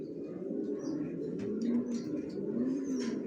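Original racer pigeons, black checker birds among many in a loft, give a soft, low continuous cooing at close range, quiet and steady with a few faint higher chirps over it.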